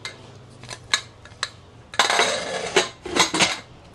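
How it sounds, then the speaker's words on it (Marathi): Metal clanks and scrapes from a pressure cooker lid being set and locked into place, a few sharp taps followed by a louder cluster of close metallic clatter, with no talking. "आणि आता कुकरला झाकण लावायचं आहे"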